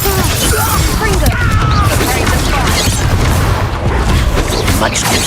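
Repeated Confringo fire-spell blasts in Hogwarts Legacy, booming impacts and crashing debris layered over a dense, continuous battle din, loud and close throughout.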